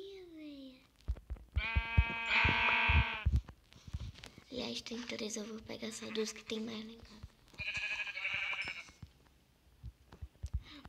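Sheep in Minecraft give several tonal, wavering bleats between stretches of a young player talking, with clicky game sounds scattered throughout.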